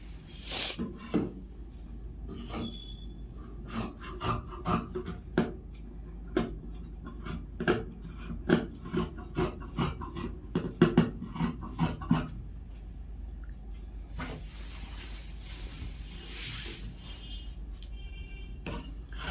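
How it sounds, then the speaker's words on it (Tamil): Scissors cut through two layers of men's trouser fabric at once in a tailoring shop, giving close, repeated crisp snips and rasping shears in irregular bursts with brief pauses and no voices. "2 பேண்ட்டை வந்து ஒன்றா வெட்டிகிட்டு இருக்கேன்"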